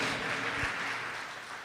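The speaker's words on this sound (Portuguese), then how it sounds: "Vamos aplaudir esse Deus maravilhoso." Steady applause from a church congregation during a sermon, a soft, continuous patter of many hands heard from a distance, fading slightly toward the end.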